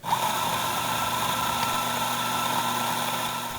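A Ceado E37J espresso grinder runs steadily with a smooth, low hum and a faint higher whine, close by and uninterrupted, easing off slightly near the end.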